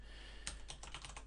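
Someone types a name on a computer keyboard, a short run of about six quiet, evenly spaced key taps after a brief pause, with no talking.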